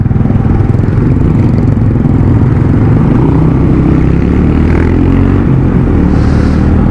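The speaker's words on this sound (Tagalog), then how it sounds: "ang ganda ng motor ni kuya." A Honda RS 125 motorcycle rides nearby, its engine a steady, loud low drone that runs unbroken throughout with no talking.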